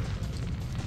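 Grenade explosion in the video game Syphon Filter, a single low muffled boom with a rumbling tail, fairly quiet and heard alone.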